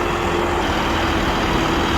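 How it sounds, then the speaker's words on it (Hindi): An AC cabin tractor's engine runs steadily as it is driven, a dense, even mechanical drone with a low throbbing rumble and no pauses or talk. "ट्रैक्टर चला के देख रहे हैं"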